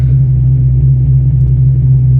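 A 1987 Fox car idling in a garage at about 950 RPM, a loud, steady low rumble of the engine close by, even and unbroken throughout.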